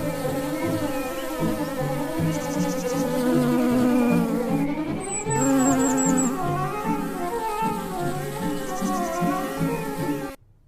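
Steady, close honey bee buzzing, with a droning whine that shifts in pitch as the insect moves, continuing for about ten seconds before cutting off abruptly.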